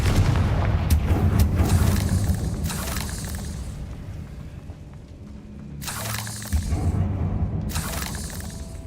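Fiery Confringo blasting spell from a Harry Potter video game, heavy booming bursts with crackling debris, several loud impacts early then a second explosive burst later, rumbling low beneath game sounds.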